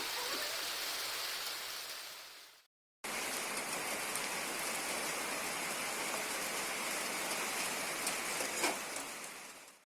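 Heavy rain pours steadily outside as a dense, continuous hiss, broken only by a brief silent gap near the start before resuming at full strength.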